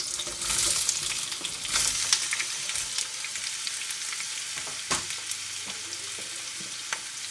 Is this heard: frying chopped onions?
yes